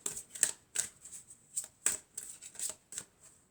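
Tarot cards shuffled by hand, giving about ten crisp riffling bursts in an uneven rhythm, close and fairly quiet, with no talking.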